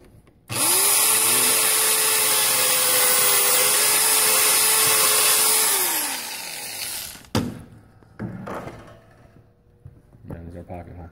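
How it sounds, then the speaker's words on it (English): A drill fitted with a stop collar bit bores a pocket hole in wood during a high school woodshop joinery lesson: a loud, steady whir runs about five seconds, then winds down, followed by faint knocks and handling noise. "We have our drill with a stop collar bit on it."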